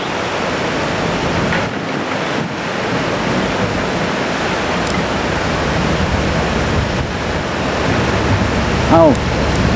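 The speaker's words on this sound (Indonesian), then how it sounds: "Iya, suara gemuruh. Baru saja truk-truk ngangkut boulder ini menuangkan" Trucks dump boulders at a dam repair site, producing a loud, continuous broadband rumble and rush with no clear breaks, joined by a brief faint whistling tone near the end.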